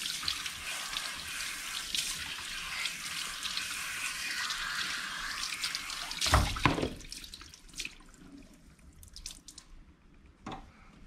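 A barbershop tap runs in a steady, bright stream for several seconds, then shuts off, leaving a few scattered drips and small splashes in a quiet room.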